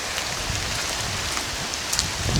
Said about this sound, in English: A steady, heavy rain.